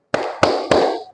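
A teacher demonstrates the Tepuk Asmaul Husna clapping chant with three sharp, close hand claps, evenly spaced and each ringing briefly before the next.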